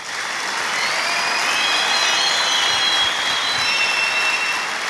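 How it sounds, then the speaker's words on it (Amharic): An audience claps together, a broad continuous wash of applause holding steady and fairly loud throughout without voices on top. "በደንብ አርጋችሁ አፕሪሼት አርጋችሁ አጨብጭቡ"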